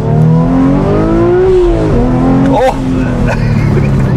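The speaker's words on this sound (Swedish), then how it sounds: "Nu ska jag köra full gas och växla" A Porsche sports car engine at full throttle, revving hard and climbing in pitch, then dropping sharply at a gear change before rising again. The engine is loud and close, with a voice briefly audible over it.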